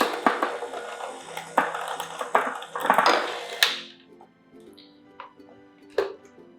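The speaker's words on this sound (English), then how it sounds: "We'll whisk just till combined, not too much." Whisk clattering against a bowl while banana cake batter is mixed, a run of quick close clinks and scrapes that stops, followed by a few faint isolated taps in a quiet kitchen.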